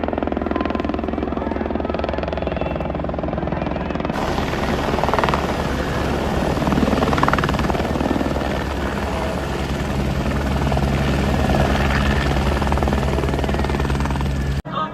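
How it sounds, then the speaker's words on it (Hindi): A helicopter on the Amarnath Yatra pilgrimage route, its steady rotor thrum and engine drone loud and continuous throughout, swelling slightly as it nears. "सुबह का पहला हेलीकॉप्टर आ चुका है"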